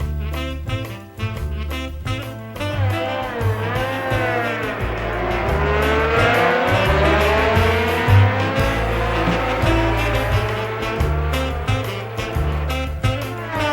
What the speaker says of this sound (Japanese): この RA300 はモンツァのサーキットにホンダミュージックを響き渡らせて